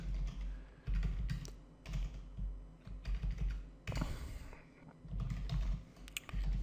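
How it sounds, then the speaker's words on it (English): Computer keyboard typing in irregular bursts of close, quiet key clicks with brief pauses between, nobody speaking. "I can even type here"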